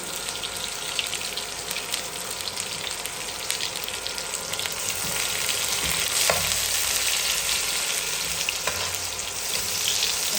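Chopped onion and crushed garlic fry in a pan for palak paneer, a dense, even sizzling hiss that swells slightly louder midway, with faint stirring clicks and no talk.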